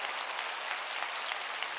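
Congregation clapping hands during a Wednesday church worship service, a dense continuous roar of applause that holds steady throughout without any speech.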